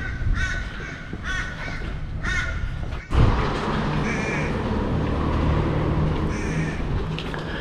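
Crows caw in a series of harsh, repeated calls on an Australian street, with a dull thump midway and a steady background hum of town traffic.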